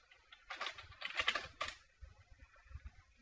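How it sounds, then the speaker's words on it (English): Fingers type a password on a computer keyboard, giving a quick, faint cluster of soft key clicks in a quiet room, then a pause with a few low thumps. "type in our password"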